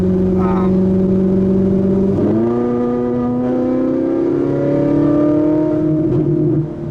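A Ferrari 458 with 560 horsepower drones steadily while cruising in sixth gear, a close, loud humming engine tone that steps up in pitch after a shift and keeps droning smoothly afterward.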